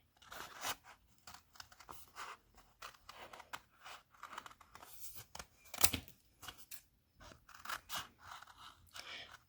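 Scissors cut around a paper greeting card from a card-making kit, producing faint, close, uneven snipping and crinkling that comes in short bursts with gaps of quiet.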